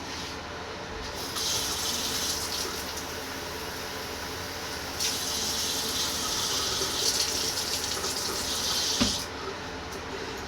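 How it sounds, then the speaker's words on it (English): Tap water runs steadily into a container for mixing tube-feeding formula, a continuous gushing hiss that swells louder in bursts as the flow is adjusted, with no talking. "And then we'll fill this up with water."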